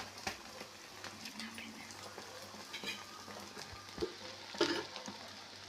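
Egg chapati fries in oil on a pan, giving a steady, close sizzle with soft crackles and occasional pops throughout, no voices over it.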